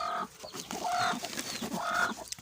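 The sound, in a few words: hen clucking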